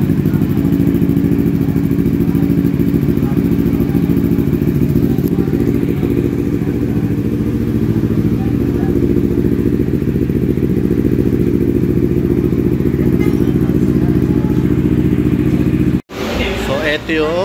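A Kawasaki Z900 SE motorcycle engine runs in a loud, steady, close-up drone with a dense low rumble, cutting off sharply near the end before a rougher restart.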